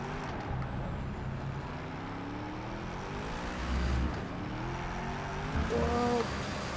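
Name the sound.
Hennessey Venom F5 road car engine in Project Cars 3 video game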